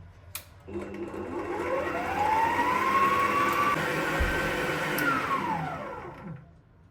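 An electric hand mixer beats sponge cake batter without sugar yet, a steady whirring drone that rises in pitch as the beaters spin up, holds, then winds down and stops.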